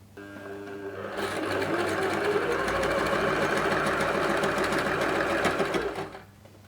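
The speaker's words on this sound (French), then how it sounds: "Donc on reprend sa machine. Là, on va venir coudre à 1 cm." A sewing machine stitches a bag made from recycled fabric along a 1 cm seam, starting after a short pause and running in a fast, steady mechanical rattle for several seconds before stopping.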